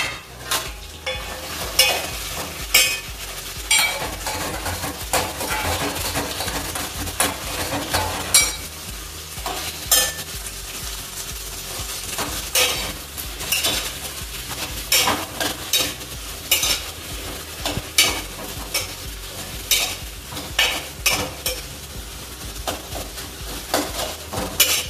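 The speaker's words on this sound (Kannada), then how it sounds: "ತರಕಾರಿ ಎಷ್ಟು ಚೆನ್ನಾಗಿ ರೋಸ್ಟ್ ಆಗುತ್ತೋ ಅಷ್ಟು ರುಚಿ ಬರುತ್ತೆ ಚೆನ್ನಾಗಿ ರೋಸ್ಟ್ ಮಾಡ್ಕೊಳ್ಳೋಣ" Onions and chillies roasting in a pan, a constant sizzle broken by regular scraping and clinking strokes of a spoon against the metal, close and fairly loud, with no talking.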